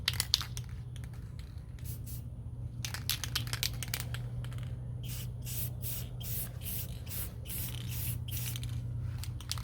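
Matte clear coat hisses from a spray can onto an AR upper receiver in a series of short, close bursts, growing more frequent toward the end over a low steady hum.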